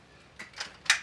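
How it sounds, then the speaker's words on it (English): During an NRL22 rifle match, a magazine change makes three quick metallic clicks spaced a few tenths of a second apart, the last sharpest, close and fairly quiet. "That's the mag change now."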